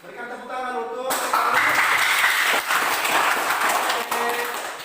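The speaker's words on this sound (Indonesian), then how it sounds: "berikan tepuk tangan untuk" Audience applause in a classroom teaching practice session, a dense wash of clapping that starts abruptly after a moment of speech and continues steadily and fairly loud to the end.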